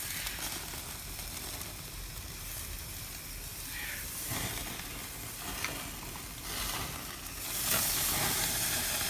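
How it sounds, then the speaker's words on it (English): Lobster tails sizzle on a barbecue grill, a steady hissing and crackling that swells louder toward the end, with no voices. "Here they are that I've just put the lobsters on the barbecue."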